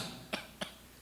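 Two short, sharp coughs from one person with a mild cold, close by, about a quarter second apart, over a quiet room background with no talking.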